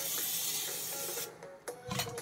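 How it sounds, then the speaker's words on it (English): Olive oil cooking spray hissing from a can onto a stone baking sheet, a steady close spray lasting about a second before stopping, followed by a few small clicks. "Spray mine with a little bit of olive oil cooking spray so that nothing sticks."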